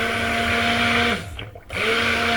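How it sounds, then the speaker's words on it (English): A handheld stick blender whirs steadily as it mixes oils for cold process cocoa butter soap. The motor cuts out briefly midway, then starts up again. "Then I'm gonna use my stick blender and I'm gonna mix to combine all the oils together"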